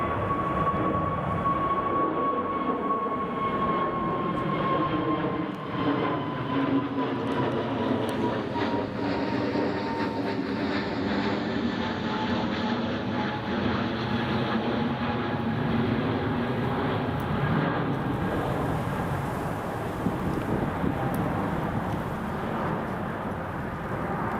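An EasyJet airliner takes off at Newcastle Airport during a storm, a loud sustained jet roar with a sweeping engine whine that slowly falls in pitch as it climbs away, steady throughout with no talking.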